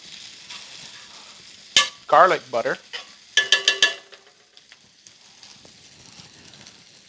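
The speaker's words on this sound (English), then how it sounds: "As our peppers and onions begin to sizzle, just move them around the pan" Steady frying sizzle of peppers and onions fills the background while they are stirred in the pan with a few clattering scrapes, and a voice speaks briefly over it.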